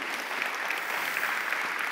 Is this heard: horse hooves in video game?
no